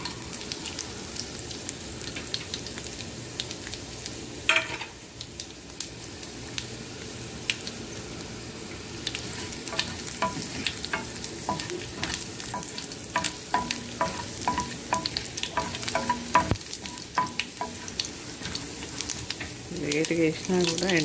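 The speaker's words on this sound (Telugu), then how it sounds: "లేట్గా వేసినా కూడా ఎండుమిర్చి అయితే తొందరగానే ఫ్రై అయిపోయిందండి" Dried red chillies frying in hot oil with garlic, giving a steady close sizzle and crackle broken by occasional stirring scrapes and clicks over about twenty seconds, with no talk.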